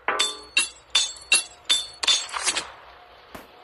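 A hammer strikes repeatedly in the video game Henry Stickmin, about seven sharp metallic clanks in a steady rhythm, close and loud, ending with a faint tap.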